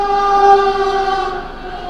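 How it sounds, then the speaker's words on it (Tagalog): A train going by near a road, with a steady horn-like tone that sounds in sustained harmonic bands, fairly loud at first and fading slightly toward the end, with no talking. "Oh, at least nakita na natin tong train na to."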